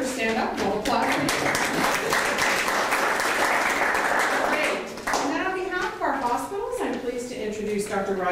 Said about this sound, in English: If you all just want to wave or stand up, we'll applaud for you.